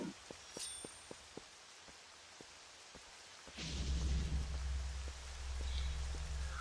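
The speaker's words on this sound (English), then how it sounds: "it's nice to have some good rain effects here as well" Rain ambience in the video game The Legend of Zelda: Twilight Princess, soft pattering with evenly spaced ticks, then a deep rumbling swell of thunder and heavier rain that lingers to the end.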